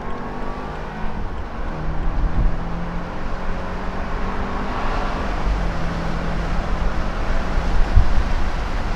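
A BMW Z4 roadster with its roof down pulls away in second gear, giving a steady, close engine drone that rises slightly as it accelerates, mixed with broadband wind and road rush throughout.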